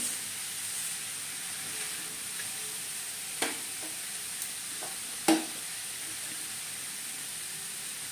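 Dried fish masi being stirred as it fries in a pan, giving a soft steady sizzle with a couple of sharp scraping knocks of the spoon against the pan.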